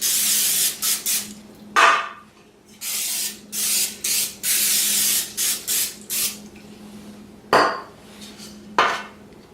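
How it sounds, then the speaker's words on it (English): Repeated short bursts of nonstick cooking spray hiss from an aerosol can in quick succession, with a few sharp clanks of metal baking pans between sprays. "spray them with a little nonstick spray"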